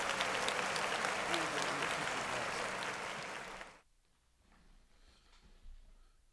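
Dense crowd applause rolls on loud and steady for nearly four seconds, then cuts off abruptly into near silence with faint background noise.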